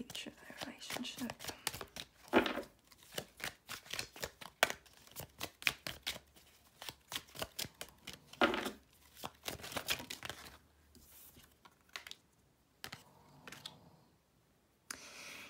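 Tarot cards are shuffled and drawn for a reading, producing rapid crisp snaps and riffling bursts close up with a few soft slaps as cards are laid down, while a voice speaks quietly.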